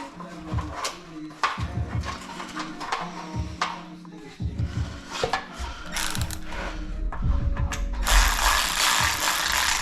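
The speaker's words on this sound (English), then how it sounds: "I'm gonna go grab my ratchet, which should be under my seat" A hand ratchet tightens side skirt bolts on a 1996–2000 Honda Civic, repeated bursts of close rapid clicking with short pauses between strokes, ending in a louder scraping rustle.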